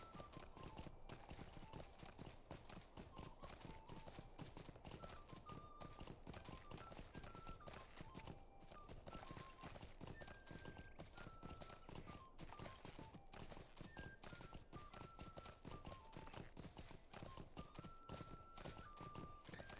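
Steady clip-clop of horse hooves at a walking pace in The Lord of the Rings Online, continuous and close, with soft tonal music notes drifting faintly in the background.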